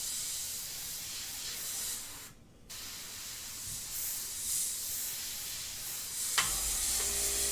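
An airbrush spraying India ink, a steady close hiss that briefly drops out, then resumes with a sharp click and a bright airy tone.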